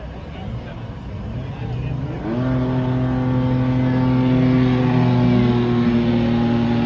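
At a drag race, a pickup truck from Aruba and a hot rod sit at the line with engines running. Their loud, steady drone rises into sustained high revving partway through.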